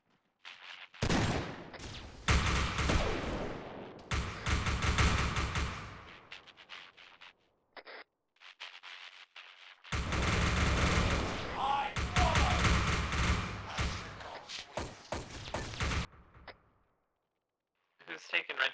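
Heavy gunfire in an Arma 3 Warhammer 40K Valhallan operation: two long bursts of dense, loud fusillade with machine-gun fire and thudding impacts, separated by a quieter gap with scattered shots.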